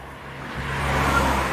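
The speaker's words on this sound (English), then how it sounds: "So we got just like car sound effects." Car engine sound effects used in a score for a driving-themed piece: a steady low motor drone that swells after the first half second and holds, continuous and fairly close, with no talking.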